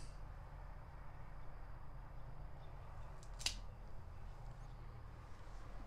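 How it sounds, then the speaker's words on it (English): A cigar gets a straight cut, heard as a single quick snip midway through a quiet background hum. "But we're gonna cut it off with a straight cut and"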